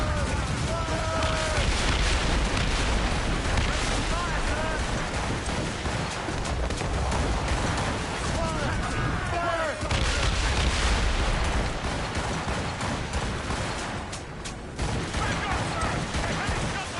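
Ship cannons fire in a naval battle in Assassin's Creed Rogue, with dense, repeated broadside booms and crackling volleys rolling continuously over a loud battle din, while crew voices shout underneath.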